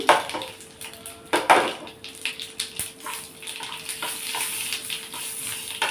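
Dry red chillies, asafoetida and garlic tempering in hot oil: a wet, crackling sizzle broken by sharp clinks and pops, loudest early and settling into a steadier fizz; no voices.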